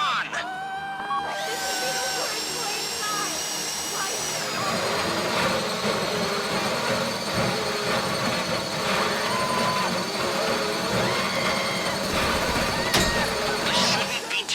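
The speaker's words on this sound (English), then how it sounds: "If the drill burns out, this whole thing will take too long." Steady, loud whirring of a heist drill in GTA 5, a continuous high mechanical whine with shifting pitch, layered over game sounds with no pause.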